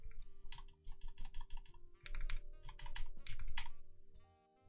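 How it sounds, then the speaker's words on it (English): Keys on a mechanical keyboard fitted with fairly quiet switches are typed in quick bursts of clicks and clacks close up, with short pauses between runs and no voices. "whatever switch this is, it's fairly quiet, at least compared to, like..."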